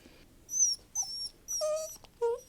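A dog whimpers in four short high-pitched whines, each rising and falling, close and clear against a quiet background.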